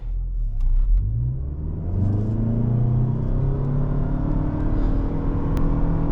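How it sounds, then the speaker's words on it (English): A 2025 Toyota Camry XLE accelerating hard during a 0 to 60 run, with a steady rising engine drone and road rumble that climbs through several gear changes. "Excellent smooth acceleration."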